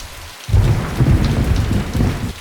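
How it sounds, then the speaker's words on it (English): A heavy thunderstorm starts abruptly after a brief quiet gap, with dense pouring rain and a deep rolling thunder rumble. The sound is loud and close, with no voices. "That night, the rain and shower came down non-stop."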